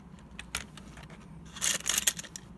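A childhood collection of assorted car and bike keys jangles and clinks in light metallic bursts, sparse at first and then a busier cluster of rattles, close and fairly quiet with no talking.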